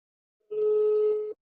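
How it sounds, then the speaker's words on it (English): A single phone ringback tone sounds during a call, a steady electronic beep lasting under a second, clear and alone against silence. "Let us see if he answers the phone."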